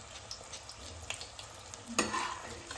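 Luchi fry in deep hot oil with a soft, continuous sizzle and occasional stirring scrapes, quiet and close, with a brief sharper crackle near the end.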